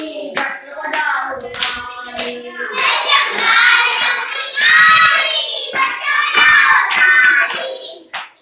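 Children clap their hands in a steady rhythm along to a Hindi alphabet song, with sharp, close claps running under sung lines throughout.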